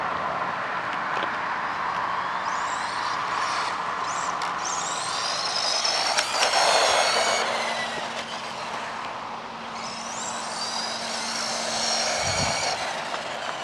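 A Wltoys A969 RC car races past at full speed, its thin high electric whine rising and falling in pitch as it approaches and recedes, with no talk over it.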